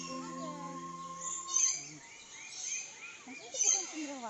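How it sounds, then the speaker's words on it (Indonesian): A white albino peacock calls at Bali Bird Park, giving two high, piercing cries a couple of seconds apart, with people talking nearby. "Bukan, itu merak putih."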